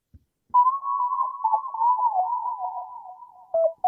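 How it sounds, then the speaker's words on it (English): A synth lead from an SQ80 plugin preset plays a short pattern: one sustained, wavering mid-pitched tone that glides and bends for about three seconds, then gives way to a brief second note, alone and fairly quiet. "I used like this plugin right here called SQ80. This is a preset name, and this is like my favorite lead song right now."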